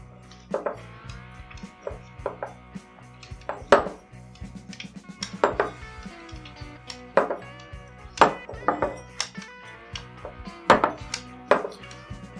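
Whiskey glasses, two rye pours, clink and knock against each other and a hard surface while being shuffled around, a string of sharp separate taps and chinks at an irregular pace, close and clear with no voices.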